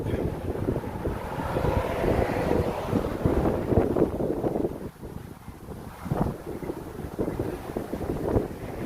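Strong wind gusting and buffeting the microphone outdoors on a walk, a steady loud rush that rises and falls in waves.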